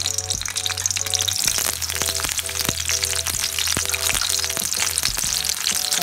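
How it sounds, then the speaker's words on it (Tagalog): Dried tuyo fish and eggplant fry steadily in hot oil, a loud, dense crackling sizzle close by with scattered sharp pops throughout. "pirituhin lang natin siya hanggang maging crispy"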